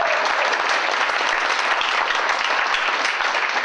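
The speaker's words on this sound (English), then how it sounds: "Give him a round of applause." A crowd applauds steadily, a dense wash of clapping that stays at an even, fairly loud level from start to finish.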